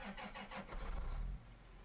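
Tractor engine in Farming Simulator 17 cranking and catching, then settling into a steady low mechanical rumble heard up close, with no talk over it.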